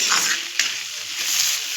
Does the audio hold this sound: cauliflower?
yes